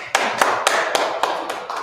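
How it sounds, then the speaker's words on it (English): Sharp, evenly spaced hand claps, about seven in quick rhythm, close and fairly loud with no talking. "Please clap it up."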